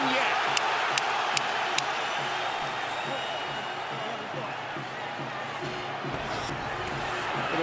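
A boxing arena crowd roars steadily through the Floyd Mayweather versus Ricky Hatton fight, a dense, loud wall of cheering and shouting from a large audience with a few sharp claps near the start.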